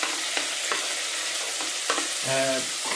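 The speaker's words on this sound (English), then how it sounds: "You'll hear some noise because I'm cooking here." Food sizzles in a frying pan while being stirred in a home kitchen, a steady close hiss broken by a few scraping strokes of a utensil.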